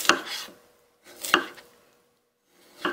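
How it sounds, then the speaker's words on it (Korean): A knife chops through a vegetable on a cutting board, slicing it into ginkgo-leaf shapes for a Japanese hot pot. Three crisp, separate cuts land about a second and a half apart, close and clear, with no talking. "요거 이제 썰어줄게요"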